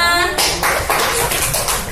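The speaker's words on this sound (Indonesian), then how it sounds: "Tepuk tangan untuk kita semua." Group clapping bursts out after a voiced tone at the start, with a run of hand claps from a classroom group of teachers that keeps going steadily, close and fairly loud.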